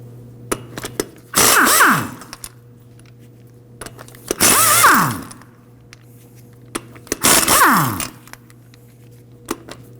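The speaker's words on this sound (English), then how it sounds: "We can go ahead and remove the lug nuts with a 19mm." Three bursts of a power impact tool spinning off lug nuts on a 1993-2001 Subaru Impreza 2.2L H4 with a 19mm socket, each whir about a second long with pauses and small clanks between, close and loud over a steady low hum.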